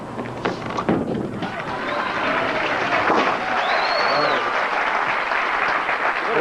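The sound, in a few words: bowling fans cheering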